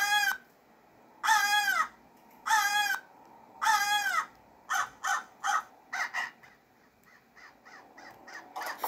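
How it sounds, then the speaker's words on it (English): A crow caws in the horror stealth game Hello Neighbor, three loud harsh calls followed by a quicker run of shorter, fainter caws, with no talk over them. "Hello, Mr. Crow. I am inside of your cage."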